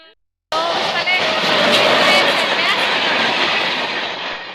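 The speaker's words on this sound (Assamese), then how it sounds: "ট্ৰেইন আহিছে" A train passing close along a railway line, a loud sustained rumble and rattle of wheels and cars that starts abruptly and holds steady, with faint voices under the noise.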